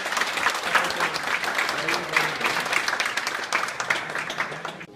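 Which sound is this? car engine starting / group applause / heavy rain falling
group applause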